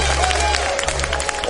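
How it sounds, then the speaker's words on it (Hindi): Studio audience on a Pakistani game show clapping in a brief burst of scattered applause, close and moderately loud over a low hum, lasting about a second and a half. "जिनको लगता है खुलवाना चाहिए तालियां बजाओ"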